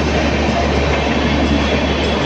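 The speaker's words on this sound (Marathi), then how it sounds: "आणि ही आली आमची चर्चगेट स्लो ट्रेन" A Churchgate-bound slow commuter train rumbles steadily close by in Mumbai, a continuous low mechanical roar of wheels and carriages rolling in, with no voices.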